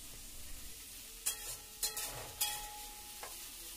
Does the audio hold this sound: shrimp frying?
yes